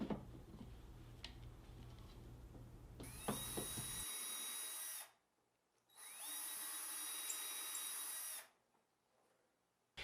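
A power drill with a 2.5mm bit pre-drills holes in the front of a wooden drawer for a Blum Tandem slide locking device, two sustained high whining bursts of a few seconds each separated by a short silence.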